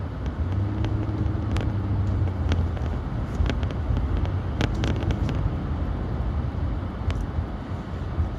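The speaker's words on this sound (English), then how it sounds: "I'm just driving myself to work right now" A car driving on the road on the way to work, steady low engine and tyre rumble with wind buffeting and occasional small rattles, heard from inside, continuous and without speech.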